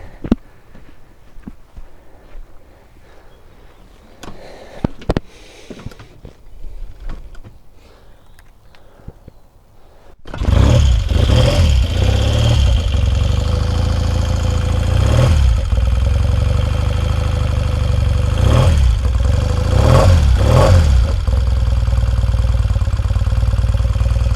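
Quiet handling and clicks, then a 1968 Triumph 500 motorcycle engine roars to life and runs loudly and steadily, with several sharp revs rising and falling.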